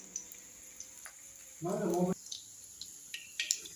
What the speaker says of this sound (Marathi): चला तर मोहरी आता तडतडली